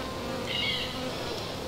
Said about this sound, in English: they're just buzzing around us trying to work out who and what we are